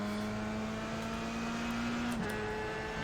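An F3 race car in the iRacing sim at Zolder drones steadily, its engine note holding high then dropping sharply as it brakes into a corner, with no talk over it.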